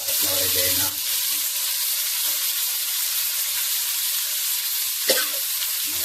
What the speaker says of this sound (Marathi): आता हे मासे टाकून द्यायचे